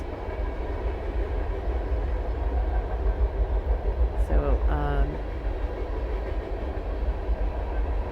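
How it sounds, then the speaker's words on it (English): A train rolls past on nearby tracks with a steady low rumble and rhythmic wheel clatter, and a brief squeal rises midway. A person talks over the passing train. "not really sure if I should stop talking while the train is going because it sounds really loud to me"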